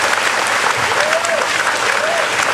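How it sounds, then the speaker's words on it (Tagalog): An audience at a distributors' orientation claps in sustained, even applause, loud and close, with a faint voice briefly rising above the clatter. "Palakpak naman po yan."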